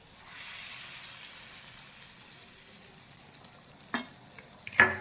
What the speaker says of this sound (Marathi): आता आपण ही फोडणी आपल्या डाळीवर घालून घेऊया